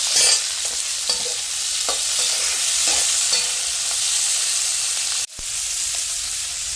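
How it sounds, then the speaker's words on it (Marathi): Chopped onions sizzling in hot oil as they are stirred, a steady close crackle with several scraping strokes, then a sharp cut to a brief silence before the sizzle resumes. "आता कांदा लाल होईपर्यंत आपण परतून घ्यायचा आहे"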